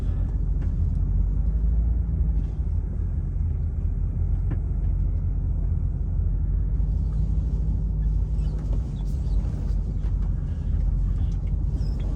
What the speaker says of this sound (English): Let's spin this big truck around.